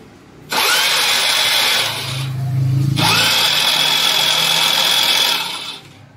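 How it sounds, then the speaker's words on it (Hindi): A motorcycle engine's starter whirs loudly in two long bursts with a short pause between, a steady mechanical cranking drone that keeps running without catching, with a slipped timing chain. "आपने आवाज़ सुनी है इंजन घूम रहा है"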